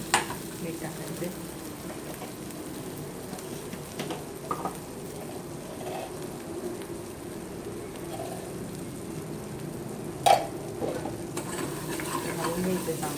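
A spicy masala shev bhaji mixture sizzles in oil while being stirred, a steady soft frying hiss with occasional scraping clicks, and a voice speaking over it.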